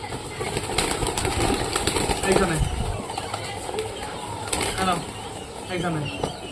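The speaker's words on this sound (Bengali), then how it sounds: "এখন আমি এখানে পায়রা দেখতে পাচ্ছি আর খেতে দিতে হবে" Pigeons flap their wings in short bursts as they are fed, with a person talking over them and a faint engine-like hum in the background.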